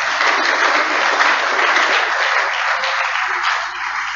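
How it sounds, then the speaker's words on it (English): Sustained audience applause fills a hall at the Accra Academy 90th anniversary inaugural service, a dense, steady wash of many hands clapping at even loudness throughout, with no speech over it. "Let's clap for them."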